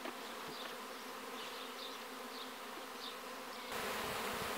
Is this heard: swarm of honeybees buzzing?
yes